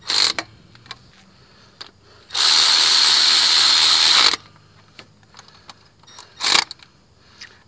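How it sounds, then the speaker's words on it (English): Ratchet and hand tools working on water pump bolts of a 2006-2011 Honda Civic Si with K20Z3 engine, with scattered clicks and a long steady burst of power-tool whirring in the middle, then a short second burst. "Now we can torque them down with a proper ratchet."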